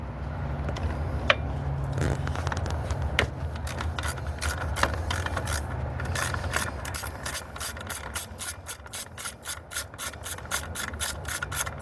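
Ratchet wrench loosening a 13 mm bolt on a 2021 Silverado during a battery swap: close, rapid metallic clicking in steady strokes, becoming faster and more evenly spaced toward the end.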